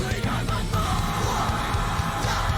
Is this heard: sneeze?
no